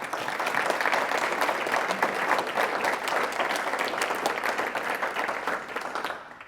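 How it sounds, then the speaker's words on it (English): A room of members at a diocesan synod meeting breaks into applause, a continuous, even wash of many hands clapping that holds steady for several seconds before tapering at the end. "would you like to give them a clap?"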